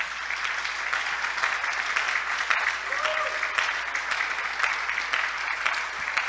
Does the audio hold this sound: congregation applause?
yes